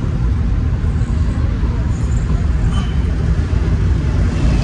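A car drives home at night, a constant low engine and road rumble heard from inside the vehicle, steady and fairly loud throughout.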